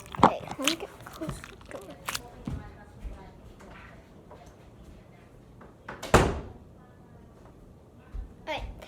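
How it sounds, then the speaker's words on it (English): A door shuts indoors with a sharp thud, among other small knocks and handling noises. A person talks quietly nearby. "Alright, so I shut the door."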